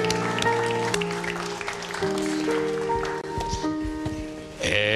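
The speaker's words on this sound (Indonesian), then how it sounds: "Kita kasih tepuk tangan buat Mbak Ratna" An audience claps steadily for a woman pianist during a Papua-themed event as piano chords ring on underneath, the clapping ending with a sharp final swell.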